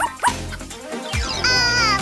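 A cute cartoon corgi gives short yips and a whimpering, whining bark, bright and close, with brief sound-effect sweeps mixed in.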